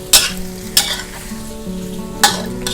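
Macaroni and sausage tossed in a frying pan, a steady close sizzle broken by a few sharp scraping stirs of the utensil against the pan, with no voices.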